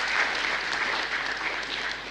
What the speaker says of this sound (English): please give a round of applause for our speakers